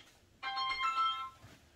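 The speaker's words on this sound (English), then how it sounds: "I got my phone ringing." A phone ringtone plays one short melodic burst of bright tones lasting under a second, fairly faint and alone against a quiet background.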